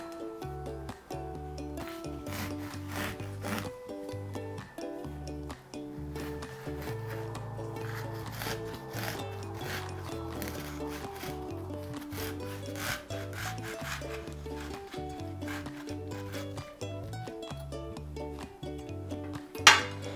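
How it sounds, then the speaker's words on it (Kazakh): A knife slices steadily through a watermelon with a repeated rubbing, rasping sawing motion close up, ending in a single sharp knock, no talking. "Сонымен өзіңіз қалаған қарбыз дағы жерінен әдемілеп кесіп аламыз."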